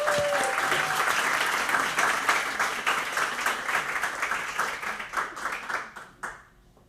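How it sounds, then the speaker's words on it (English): Applause for graduates at a Boston immigrant graduation ceremony, a dense crowd clapping loudly that gradually thins into scattered claps and stops. "Another round of applause for"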